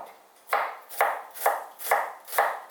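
Knife chopping onion on a board, five evenly spaced crisp thuds about half a second apart, close and clear with no talking.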